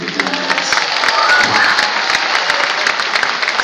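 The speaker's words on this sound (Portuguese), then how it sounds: "Uma salva de palmas pra ele." An audience at a hip hop album anniversary show applauds in a steady, dense wash of clapping that stays loud and close for the whole stretch, with a few crowd voices mixed in.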